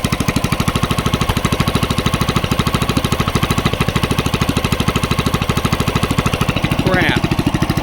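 A homemade rock mower engine runs loud and close while put into gear, chugging in a fast, even, rhythmic knock that holds steady throughout, with a brief rising whine near the end.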